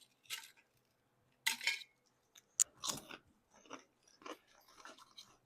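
Several crisp crunchy bites and chewing sounds of cucumber chips, close up, in uneven bursts separated by short quiet gaps.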